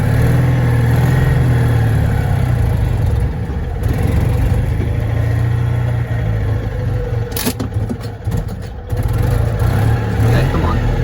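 A Citroen 2CV engine chugs and revs unevenly, struggling to hold an idle, with a low steady drone that falters and clatters near the end; a voice talks over it throughout.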